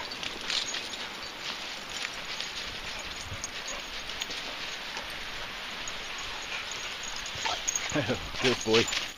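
A dog barks and yips at a dog walking and day care outing, with short barks scattered under people talking. Light patter sounds in the background.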